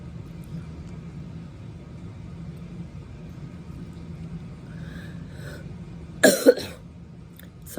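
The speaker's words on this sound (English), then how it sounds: "Sorry about the cough." A single short cough from a person with a lingering cold, close and fairly loud, standing out briefly against a low steady indoor rumble.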